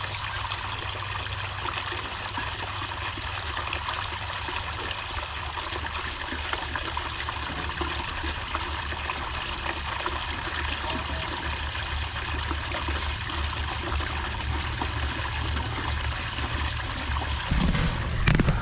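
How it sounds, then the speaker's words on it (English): Water gushes steadily from a hose into a tank on a rural compound, a continuous rushing, churning flow that stays close and even throughout, growing slightly louder near the end. "Just to hold this hose while it fills this tank so I can walk away"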